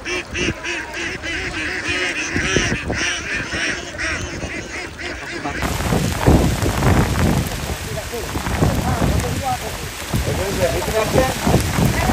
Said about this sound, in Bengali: বৃষ্টি মানে আকাশ ভেঙে বৃষ্টি পড়ছে, কি একটা অবস্থা।